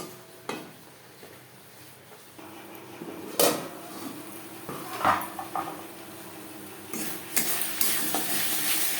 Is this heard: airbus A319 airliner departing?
no